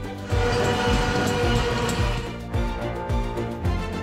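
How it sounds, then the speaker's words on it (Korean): A train whistle sounds on the Donghae Bukbu Line during a first test run between Geumgangsan and Jejin stations, a sustained tonal blast over rumbling, clattering wheels and rail noise. "긴 침묵을 깬 기적 소리."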